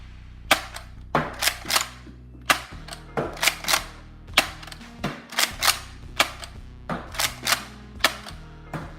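A Nerf blaster fires Lightake vortex discs in a steady series of sharp snapping shots, each followed by a brief mechanical rattle of the firing mechanism, about two per second, close and fairly loud with no talking.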